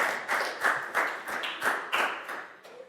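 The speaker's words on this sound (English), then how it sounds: "Round of applause for Bangpon." A Year 4 classroom gives a round of applause: about eight evenly spaced, rhythmic group claps ringing out loud and close, with no talking over them.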